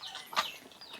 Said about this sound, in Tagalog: Marami rin siyang manok dito.